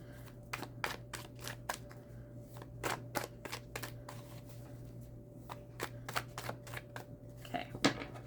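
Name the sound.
shuffling tarot cards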